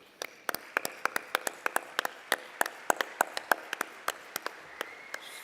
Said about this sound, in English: Please give them a standing ovation.